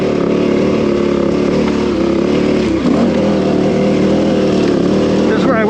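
Motorcycle engine droning steadily on a long uphill climb, a continuous mid-loud hum with slight pitch shifts as the rider works the throttle, with speech under it.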